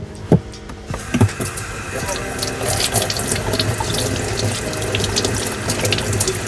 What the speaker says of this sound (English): I'm gonna go right to the sink this time.